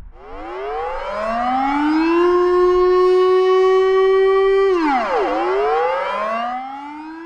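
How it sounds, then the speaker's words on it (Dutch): A loud civil defense siren on a pole, sounding in a monthly test, winds up to a steady wail, then drops and rises again, echoing outdoors with no voices. "Dan laten de palen een harde sirene horen."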